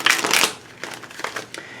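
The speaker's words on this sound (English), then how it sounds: "I'm going to shuffle the deck one more time." A deck of tarot-style cards being shuffled in hand, with a burst of riffling and rustling at first, then several softer, shorter card shuffles spaced out, close and fairly loud.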